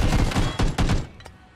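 Rapid bursts of in-game gunfire in PUBG (Playerunknown's Battlegrounds) crack out loud and close, several shots clustered in quick succession before tapering off.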